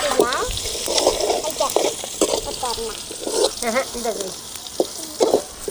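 Garlic and puffed rice roasting in a pan, a steady frying sizzle with scraping stirs, under a voice speaking throughout.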